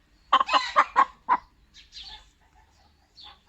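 Salmon hens cluck nearby, a quick series of four or five sharp clucks followed by softer scattered murmurs and a faint call.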